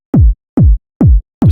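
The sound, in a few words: original techno kick drum sample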